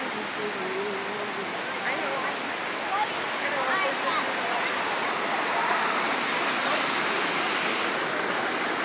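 Ocqueoc Falls near Rogers City, Michigan pours in a steady rushing roar that holds even throughout, with voices faintly present beneath the water.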